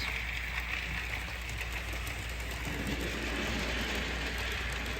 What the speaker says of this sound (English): Rather lovely locomotive, that one. Old as the hills.